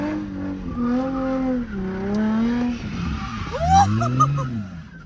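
An Infiniti G35 Coupe with worn tires spinning and skidding, with long wavering tire squeals rising and falling, nearby and fairly loud over the engine. A sharper squeal swells near the end.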